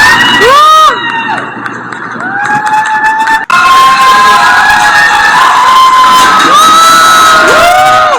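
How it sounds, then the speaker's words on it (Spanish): New York crowd during coronavirus quarantine cheering, whooping and applauding health workers at 7 p.m., a loud, dense roar of shouts and whistles that carries on continuously with only a brief dip midway. "A las 7 de la noche todos los días la gente sale a aplaudirle a las personas los trabajadores de la salud"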